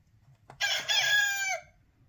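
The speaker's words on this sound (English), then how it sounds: "A rooster." A Fisher-Price interactive toy plays a recorded rooster crow, one bright, clear cock-a-doodle-doo of about a second, loud and close over a faint low hum.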